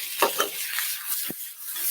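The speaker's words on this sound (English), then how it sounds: "Definitely selling the sizzle, Keppy." Green beans and blistered tomatoes sizzle in a hot pan: a steady hiss with a few scraping stir sounds, close and fairly loud, with no talking.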